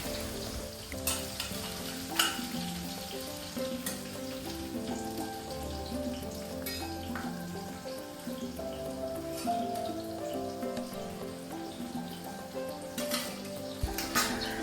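Onions and green chillies frying in hot oil in a kadai, a steady crackling sizzle running throughout with occasional louder pops and light stirring clatter.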